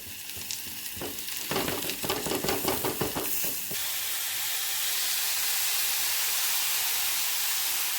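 Sliced onion, curry leaves and beetroot go into hot oil in a pan with cumin, crackling and clattering under stirring for a few seconds, then settling into a steady, even sizzling hiss.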